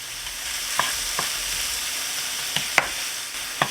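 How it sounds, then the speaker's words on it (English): Chopped onion and garlic fry in olive oil in a frying pan with a soft, steady sizzle. A utensil clicks and scrapes against the pan a few times while stirring, close up. "I'm mixing the onion and the garlic with the olive"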